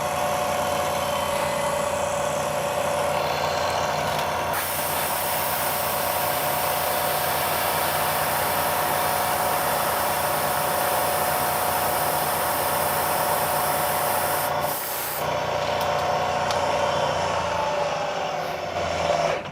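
A milling machine bit carves a rectangular channel in machining plastic, a steady whirring motor hum with a continuous rasping cut, briefly dropping out near the end before resuming.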